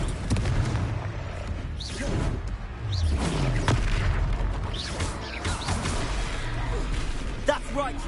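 Spell explosions and combat booms in the video game Hogwarts Legacy, several dull blasts and crashes spread through the clip under frequent spoken voices and game effects.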